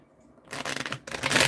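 Tarot cards being shuffled, two quick riffling bursts of papery flutter, near and fairly loud, with no voice over them.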